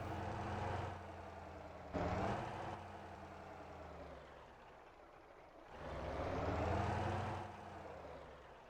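A truck engine in the driving game Motor Town idles and revs in low, heavy swells, with a sharp rise near the start and another long surge later, heard alone at moderate distance.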